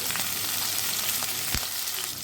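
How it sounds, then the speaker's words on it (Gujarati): Cumin and green chillies fry in hot oil with a steady, close sizzle and crackle that continues throughout, and one soft thud partway through. "અહીંયા તેલ ગરમ થઈ ગયું છે, તેમાં આપણે 1 ચમચી જેટલું જીરું ઉમેરશું"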